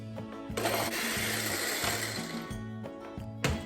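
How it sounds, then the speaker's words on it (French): An electric hand mixer beats chocolate cupcake batter in a bowl, a close, buzzing motor whir with stuttering pitch shifts as the beaters move through the mix, stopping briefly near the end and restarting. "on va venir mélanger avec notre mixette pendant environ 3 minutes jusqu'à ce que ça devienne lisse puis un petit peu aéré"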